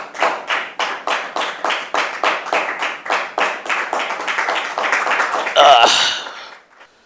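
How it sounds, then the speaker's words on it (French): Studio audience clapping in a steady, rhythmic unison beat, loud and close, ending with a brief flurry of scattered claps before fading out. "Sous vos applaudissements, s'il vous plaît."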